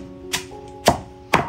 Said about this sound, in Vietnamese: chặt xương để băm rau